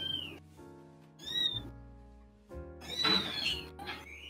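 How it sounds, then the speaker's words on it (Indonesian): A cat meows several times, high and drawn-out, with short pauses between cries, fairly close and alone. "Suara kucing itu"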